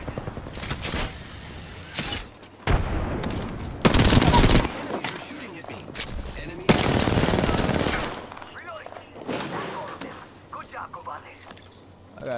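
Bursts of rapid automatic gunfire in the Apex Legends video game, several loud sustained volleys separated by short pauses, with metallic clinks and shell jangles between, and players talking over it.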